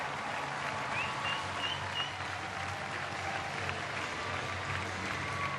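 A baseball crowd at a ballpark applauds in a broad, steady wash of clapping that holds evenly throughout, distant and diffuse with no clear voices.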